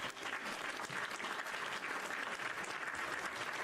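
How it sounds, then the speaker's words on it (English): Dense, steady applause from a crowd, clapping continuously at an even loudness without pause. "Guys, give Ashley a round of applause for joining in."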